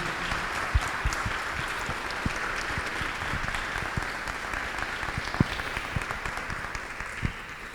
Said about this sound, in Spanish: para quien pido un caluroso aplauso de agradecimiento